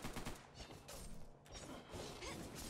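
Pistol gunfire in the video game Bright Memory, heard as a dense rapid run of sharp shots mixed with whooshes and impacts, sustained and fairly faint throughout.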